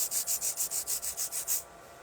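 A tool scrapes across a fingernail during nail art, a fast rhythmic series of about ten bright rasping strokes close up, then the scraping stops and only quiet room tone remains.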